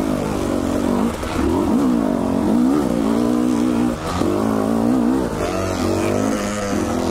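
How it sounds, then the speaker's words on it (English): A KTM-style TE300i dirt bike rides a trail in second gear, its two-stroke engine loud and close, revving up and down in steady, wavering pulls with a brief dip near the four-second mark. "Second gear on the old TE300i."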